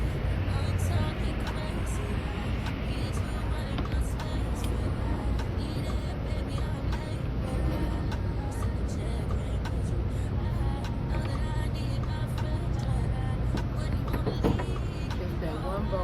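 Steady, loud background rumble of traffic and idling engines at a truck stop, continuous throughout with faint clatter, under a person talking.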